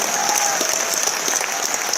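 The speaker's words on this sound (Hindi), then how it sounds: "ताली थोड़ा दमदार होनी चाहिए" Audience at a ceremony honouring pin-level achievements claps in steady, dense applause, a continuous patter of many hands filling the room without a break.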